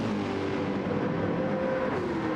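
The older Porsche 911 RSR race car in a racing game, on the Nürburgring GP circuit, holds a constant loud engine drone whose pitch climbs and then dips as it comes off the throttle.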